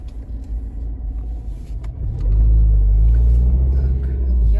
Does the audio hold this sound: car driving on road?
yes